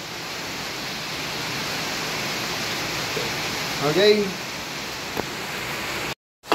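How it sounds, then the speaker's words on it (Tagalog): Heavy rain pours in a Cabiao, Nueva Ecija town setting as a steady, loud, even hiss, with a brief spoken word near the end. "bumuhos ang ulan"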